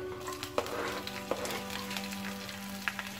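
Cumin seeds and green chilies sizzling in leftover oil, a steady frying hiss with a few light clinks and stirring taps, close and fairly quiet.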